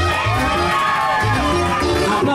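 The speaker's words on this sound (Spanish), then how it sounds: "El aplauso la bulla para el número 2." Crowd cheering and shouting for contestant number 2 at an event aboard the yacht Triton in San Andrés, a loud, dense burst of voices with children's shouts mixed in.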